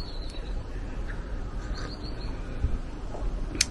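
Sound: birds singing outdoors

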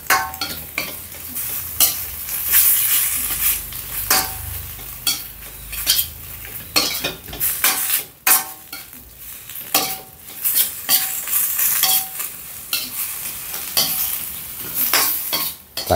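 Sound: stir-frying beef for Thai red curry in a pan

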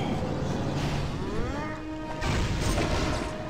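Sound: energy explosion attack in a video game

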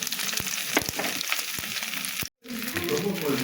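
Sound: cumin sizzling in hot oil with fried boal fish head

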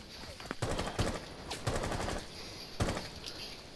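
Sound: gunfire in a video game

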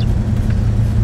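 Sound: 1968 Plymouth Road Runner braking to a fast stop

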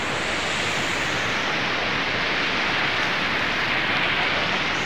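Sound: waterfall rushing water

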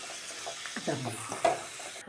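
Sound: mustard seeds frying for pickle

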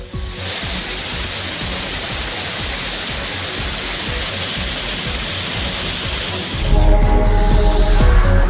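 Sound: waterfall with heavy water flow

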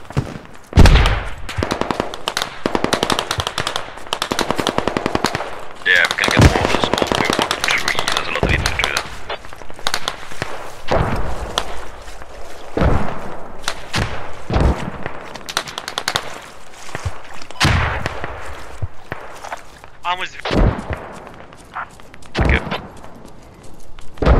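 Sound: gunfire from a gun in the video game Escape from Tarkov

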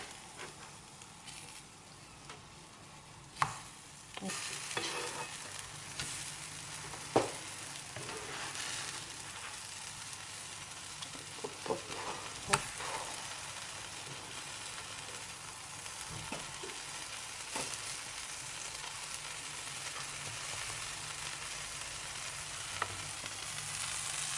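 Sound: sesame batter sizzling in a frying pan, being flipped

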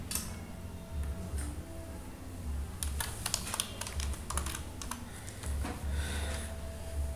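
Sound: typing on a computer keyboard

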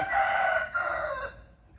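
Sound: wild junglefowl rooster crowing

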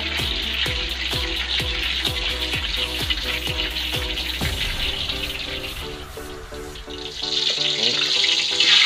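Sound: sweet and sour sauce boiling with fried tilapia

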